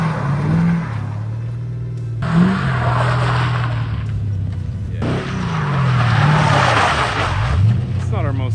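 A car drifts and spins donuts on slick ground, its engine revving and droning in repeated surges, with tires hissing and squealing between them. It sounds close and loud.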